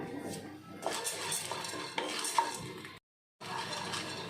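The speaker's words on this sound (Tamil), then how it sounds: "இந்த பொட்டுக்கடலை கொஞ்சம் லைட்டாக வறுத்துக்கிடலாம்" Roasted gram (pottukadalai) being lightly dry-roasted in a metal pan at home, giving steady rattling, scraping and clinking as it is stirred, with a brief pause near the end before the stirring resumes.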